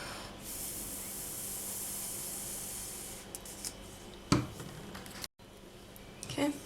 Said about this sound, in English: Give it a spray again.